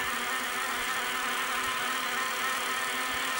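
An electric bike's motor runs steadily during a time-trial ride with no pedalling, a continuous whirring drone under wind rush that holds at an even, moderate level throughout.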